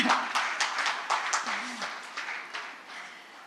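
A small seated audience at a love-songs event gives quiet, scattered hand claps that continue steadily throughout, sounding slightly distant.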